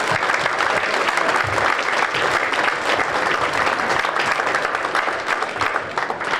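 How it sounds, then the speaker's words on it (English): An audience welcoming a new football signing breaks into loud, continuous applause, with many hands clapping evenly throughout before it eases off slightly at the end. "big round of applause"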